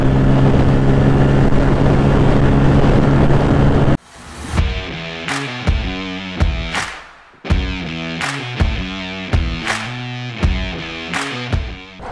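A Bajaj Pulsar N160 motorcycle engine drones steadily while riding, loud and close for a few seconds, then gives way to rhythmic music with a beat.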